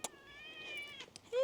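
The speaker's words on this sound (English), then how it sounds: "And there's a lovely cat." A cat gives a drawn-out meow, close and clear, followed by a second rising meow after a brief pause, with faint background noise.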